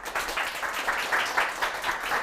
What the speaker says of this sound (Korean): 박사님을 큰 박수로 모셔볼게요.